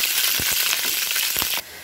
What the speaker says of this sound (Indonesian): Ini ada dua tahu ya, mau aku goreng.